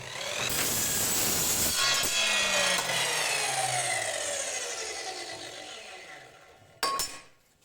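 A GTM HM 1032 miter saw whines loudly cutting aluminum, its pitch sliding downward as the blade slows, followed by a brief sharp burst near the end.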